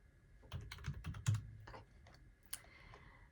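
Typing on a computer keyboard in a quiet room, a close run of soft, irregular key taps with a few louder strokes and short pauses, no voices.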